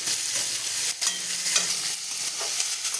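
Potatoes frying in a pan with ginger paste, a loud, dense, steady sizzle with a faint scrape or two, close up and without speech.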